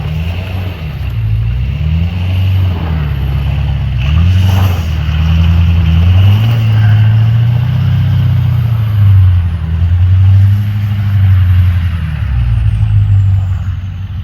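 A vehicle in two-wheel drive on BFGoodrich KO3 all-terrain tires climbs a snowy hill, its engine droning steadily and rising and falling in pitch as it works for traction, loud and close throughout with no talking.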